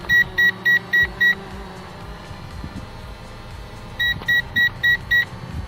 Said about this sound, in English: I do believe you can't actually stop that beeping from occurring. It's just going to keep beeping.